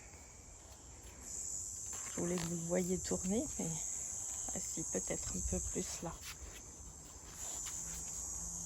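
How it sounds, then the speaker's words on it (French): Continuous high, shrill insect buzzing like a cicada running steadily in the background outdoors, with someone speaking French over it and a brief low rumble partway through. "on dirait vraiment comme une cigale, c'est impressionnant"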